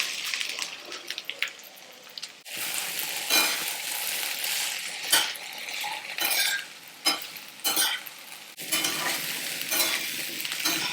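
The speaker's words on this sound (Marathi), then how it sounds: "हे तेल गरम झाले त्यामध्ये आधी आपण भेंडी टाकूया" Okra sizzles in hot oil in a wok, with a steady crackling fry broken by repeated scraping and clinking as it is stirred, heard up close.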